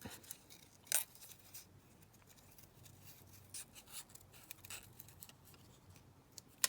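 Scissors trim around paper to make junk journal pockets, producing faint, close snips and soft rubbing in a quiet room, with one sharper cut near the start.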